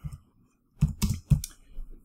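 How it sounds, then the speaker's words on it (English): Typing into a search bar on a computer keyboard: a few quick clustered key clicks, close and crisp, with short pauses between bursts. "typing in the search bar up here"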